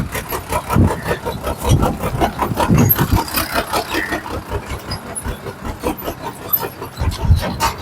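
A beach-cleaning tractor engine chugs nearby on a beach with a rhythmic, pulsing diesel throb that swells and fades slightly over several seconds.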